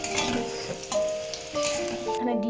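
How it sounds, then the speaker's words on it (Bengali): Large chunks of potato frying in oil for egg biryani, giving a steady close sizzle with faint tonal hum beneath and a brief drop in level near the end. "এখানে একটু আলুগুলো ভেজে নিচ্ছি"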